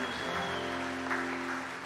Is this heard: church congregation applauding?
yes